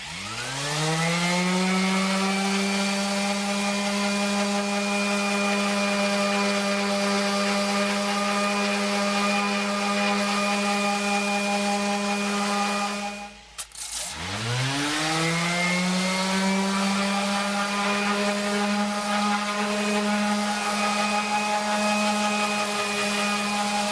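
A power sander works the wood of a 1947 Planet Jr. BP1 with a steady, droning motor whine. It spins up, runs evenly, cuts out briefly midway, then winds back up and keeps going.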